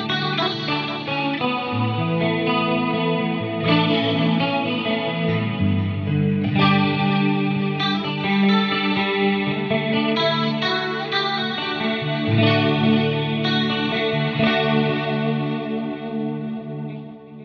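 A clean electric guitar processed through an Axe FX 3 with chorus and effects plays continuously, with shimmering, layered chords and notes ringing out at a steady loudness, no voices.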